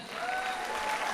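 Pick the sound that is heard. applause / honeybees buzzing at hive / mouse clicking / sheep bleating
applause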